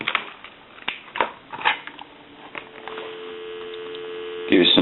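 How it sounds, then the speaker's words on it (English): Steady dial tone from a Western Electric Trimline telephone, a continuous hum rising after handset clicks and rustling handling noises, then a louder burst near the end. "Give you some dial tone."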